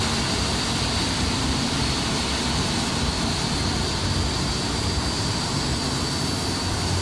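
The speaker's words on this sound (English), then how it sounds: "Both engines running normal indication." Twin jet engines of a Boeing 787 in a flight simulator game run steadily after start, a loud, constant broadband roar with an even whine and no talking.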